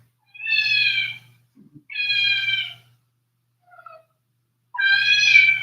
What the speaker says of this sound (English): Two more kitten cries.